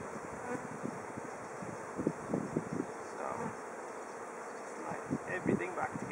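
Bees hum around an open hive during an inspection, a low steady buzz punctuated by brief nearby fly-bys and light handling noises.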